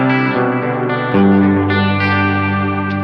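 Electric guitar played through a Boss GX-10 multi-effects unit on the Ricky Vox patch, sustained effected chords ringing loud and close with a fresh chord struck just past one second, no voices.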